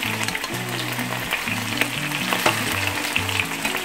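Wild salmon steaks frying in a pan, a steady close sizzle and crackle of hot fat running throughout with faint utensil knocks, no talking.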